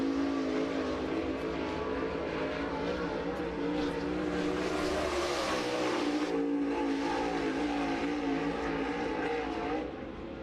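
Race cars run at Cherokee Speedway in Gaffney, South Carolina, their engines roaring and revving at a distance in a continuous drone that swells midway as cars pass, with no talk over it.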